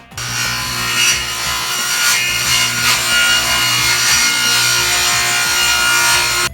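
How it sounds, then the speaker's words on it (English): Sheets of MDF being cut up for a TARDIS console build: loud, close, continuous rasping saw strokes with a rough, gritty texture and no talking. "we got our sheets of MDF that we got in the last video, and we're gonna start cutting those up"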